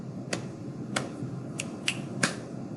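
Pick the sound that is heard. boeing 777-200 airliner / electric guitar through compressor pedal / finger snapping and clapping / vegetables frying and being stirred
finger snapping and clapping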